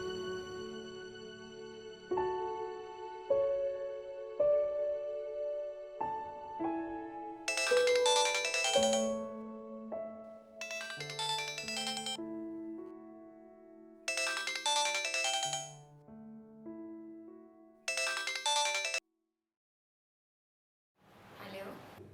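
A phone rings with a melodic ringtone for an incoming call, a repeating electronic tune played over several bars with bright chime bursts, loud and close before it cuts off.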